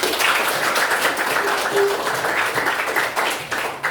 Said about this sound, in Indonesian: Tepuk tangan buat Argon.